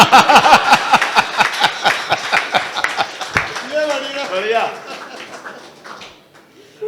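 An audience at a Hindi comedy poetry show claps in a steady rhythm for a few seconds before the clapping fades and a voice takes over.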